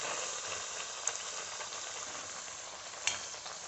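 Banana slices fry in hot coconut oil for crispy banana chips, giving a dense, steady sizzle with a couple of brief sharper pops, close and continuous without talk.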